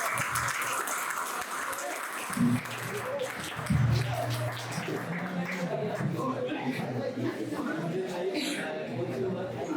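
Sustained clapping from an audience at a Republic Day celebration in India carries on throughout, with murmuring voices and a few louder shouts mixed in.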